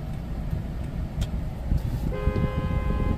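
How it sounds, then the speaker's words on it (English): A Lexus LX470 horn blares as a steady, loud tone for the final second, sounding over a continuous low rumble of engine and background noise. "Horn works."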